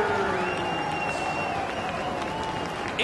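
Ring of Honor wrestling crowd applauding Davey Richards of the American Wolves at his introduction, sustained clapping under a faint electronic tone, fading slightly toward the end.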